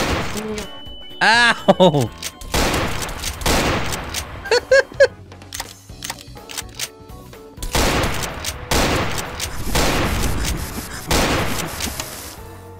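Gunfire from the video game Garry's Mod DarkRP crackles in rapid bursts and volleys, some close and loud, mixed with booms while players talk over the shooting.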